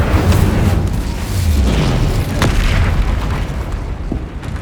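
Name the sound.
Incendio fire spell blast, Hogwarts Legacy video game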